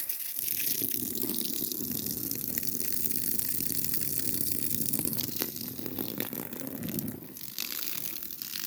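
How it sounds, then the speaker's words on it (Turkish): Water from a motor-driven pump gushes steadily through a hose for field irrigation, a continuous loud rushing flow that stays even throughout without pauses. "Başka motorla diğer sulamak için suyu görelim şimdi"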